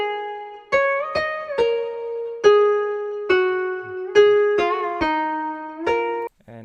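A Japanese lo-fi melody loop of plucked, bell-like synth notes, each ringing and decaying before the next, played alone at a relaxed, uneven pace.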